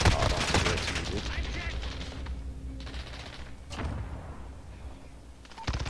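Rapid bursts of automatic rifle fire from an M4 in Call of Duty: Modern Warfare, loud and close at the start, followed by scattered single shots and quieter distant gunfire with game sound effects underneath.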